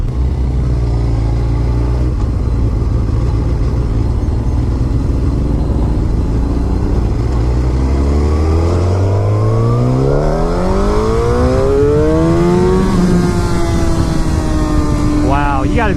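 A Suzuki GSX-R1000 liter-class sport motorcycle is ridden hard, its engine droning then revving up through rising pitch sweeps. Heavy wind rush runs beneath it throughout.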